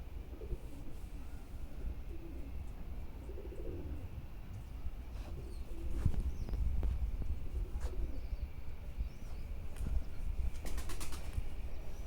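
Soft pigeon coos repeat, then tumbler pigeons' wings flap in sharp clattering bursts nearby, with light rustling between.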